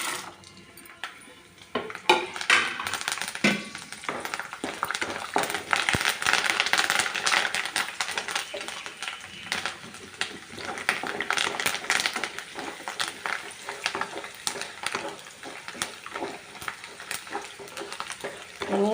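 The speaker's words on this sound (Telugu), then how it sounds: "ఇటన్నిటిని తాలింపు వేసుకుందాం" Spices tempering in hot oil in a pan for an Ongole-style gongura pickle give a steady, dense crackling sizzle with scattered sharp pops, fairly loud and continuous, with no talking.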